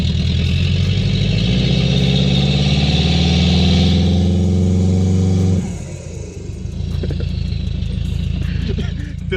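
A Ford Fiesta ST with full bolt-on modifications idles nearby with a loud, rough, steady drone, its pitch and level dropping partway through as the engine settles, while people talk over it.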